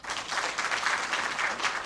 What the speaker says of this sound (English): we can also give a round of applause for